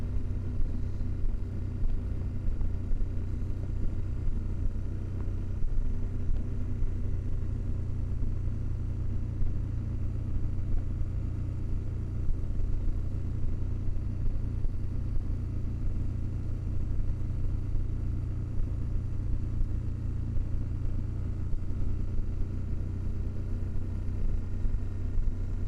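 A Husqvarna Norden 901 motorcycle rides along Pine Valley Road in Colorado, its engine giving a steady, close, continuous rumble with a droning mid-range hum and no pauses or sharp revving.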